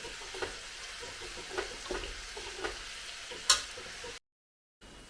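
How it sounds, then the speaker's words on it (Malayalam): Grated coconut roasting in a pan over a medium flame, a soft steady sizzle with light, rhythmic stirring scrapes and one sharp clink, then brief silence. "തേങ്ങ വറക്കുമ്പോൾ നമ്മൾ ഹൈ ഫ്ലെയിമിൽ ഇടണ്ട, മീഡിയം ഫ്ലെയിമിൽ ഇട്ടാൽ മതി."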